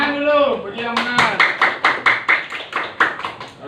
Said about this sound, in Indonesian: Tepuk tangan dulu, bagi yang benar.